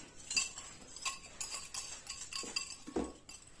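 A utensil stirs mascarpone and egg yolks together in a mixing bowl, producing soft, irregular clinks and scrapes against the bowl, close and fairly quiet.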